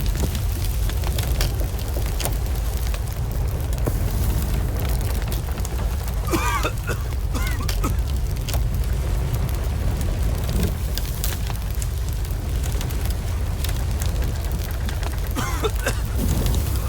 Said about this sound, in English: fire spreading even more.